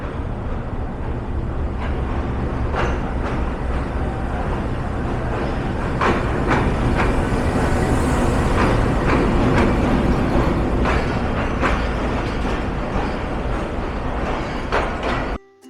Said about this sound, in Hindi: सामने से ट्रेन आती हुई देख रहे हैं, ये सुबह रफ्तार ट्रेन है, प्लेटफॉर्म नंबर 3 पे आ रही है।